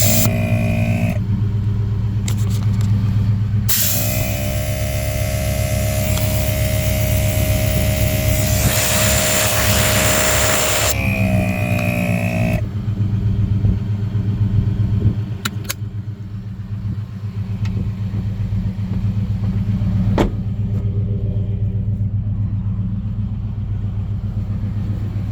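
An ARB air compressor mounted on a Nissan Titan pickup runs steadily, a loud continuous motor drone with a sharper, hissier burst of airflow in the middle as the tires are inflated, then settles back to a constant hum.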